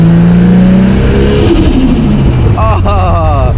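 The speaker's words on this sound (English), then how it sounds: "I'm gonna give it some a little bit, but not too much, just so you can hear the turbo spool up." A Toyota Supra MK4 JZA80 with a 2JZ-GTE engine and a Pulsar G35 1050 turbo drives under steady load. The engine drones loud and close throughout, with a high turbo whine rising, then a shifting roar near the end.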